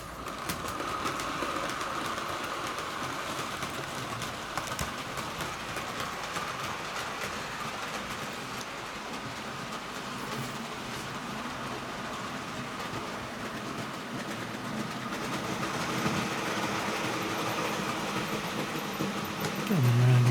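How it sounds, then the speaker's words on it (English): A model train with Hornby and Hunt magnetic couplings runs round the track with a steady, continuous rolling rumble and rattle throughout, with faint bird calls in the background. "So I'll send that train round."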